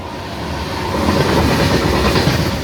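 The Andaman Express passenger train rolls steadily along the tracks, a continuous low rumble with rhythmic clickety-clack from the wheels, close and fairly loud throughout.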